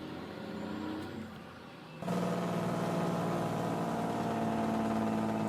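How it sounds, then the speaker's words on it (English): Farming Simulator truck engine in a ranch game, rumbling steadily and loudly with a jump in level about two seconds in as it revs up, then holding a sustained drone to the end. "I want to let you listen to this truck."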